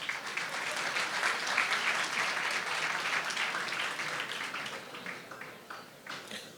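Audience applause after a rabbi's talk, a dense crowd clapping steadily and loudly for several seconds before tapering off slightly toward the end.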